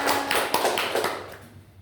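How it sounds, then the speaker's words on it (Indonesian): A school class claps together in a teaching-practice lesson, producing a short burst of close, uneven hand claps that tapers off after about a second and a half. "Oke, tepuk tangan dong buat semuanya."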